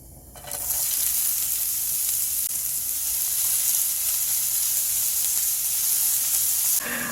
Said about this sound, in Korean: 감자가 이렇게 폭 익을 때까지 막 볶아주시면 됩니다